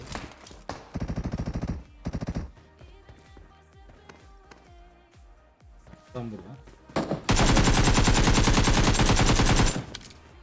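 Bursts of automatic gunfire from the PUBG video game on the Erangel map, a short rapid volley early on and a long, loud continuous burst later, with scattered game sounds and footsteps between.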